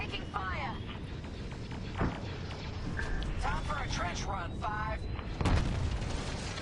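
Starfighter weapon fire in Star Wars: Squadrons, booming blasts and bursts over a dense rumbling engine bed, with chirping electronic laser-like tones repeating and a strong impact near the end; a voice talks underneath.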